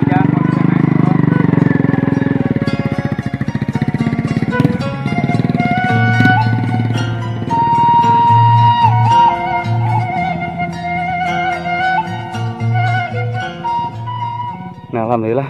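Motorcycle climbing a mountain road in rain, its engine a loud, steady drone with rhythmic throttle changes, under people talking throughout.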